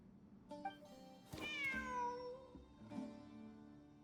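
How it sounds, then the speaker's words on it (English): A cat in Genshin Impact meows several times in a row, drawn-out and clear, a couple of short calls followed by a longer, louder wavering meow, with no talk over it. "Wait, there it is! The cat!"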